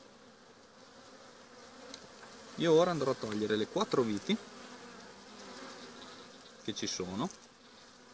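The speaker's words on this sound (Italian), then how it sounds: "Ora diamo una scrollatina dalle api." Honeybees buzz steadily in the background as a frame of the hive is shaken, while someone talks over the hum.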